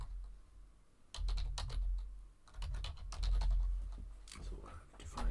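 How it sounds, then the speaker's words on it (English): Quick, uneven bursts of clicking keys on a computer keyboard sound close by while a function is typed out in code, pausing briefly between runs of keystrokes. "I can just type out a function."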